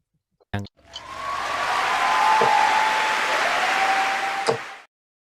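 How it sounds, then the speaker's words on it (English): A darts crowd at a Luke Littler match swells into cheering and applause after a brief sharp knock, holding a broad roar with a faint whistle-like tone before cutting off abruptly. "barracking and cheering."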